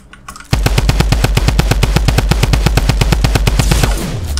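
Automatic gunfire in the video game Fortnite: one loud, fast, steady burst of evenly spaced shots lasting about three and a half seconds, then a short ringing tail, with no talking.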